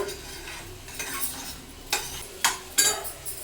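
Ghee sizzles softly in a pan of carrot halwa made with milk while a spoon scrapes and stirs through it, giving several sharp metallic clinks over a low, steady frying hiss.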